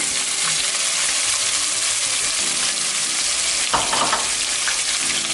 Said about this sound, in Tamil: வெங்காயத்தை சேர்த்து நல்லா வெங்காயத்தை வதக்கிப்போம்